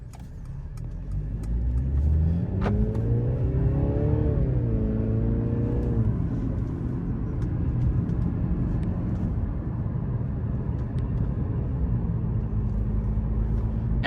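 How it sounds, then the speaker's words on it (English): A Mercedes C-Class car drives along a coastal road on the Makarska Riviera, with steady engine and road noise and a brief rising and falling engine tone early on. "And we are now driving on MAKARSKA Riviera."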